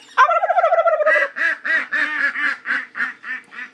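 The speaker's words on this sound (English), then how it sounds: "Let's see if they'll quack." A flock of ducks answers calls with loud, close quacking: a quick burst of chatter, then a steady run of about ten evenly spaced quacks.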